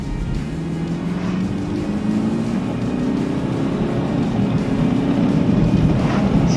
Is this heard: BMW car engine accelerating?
yes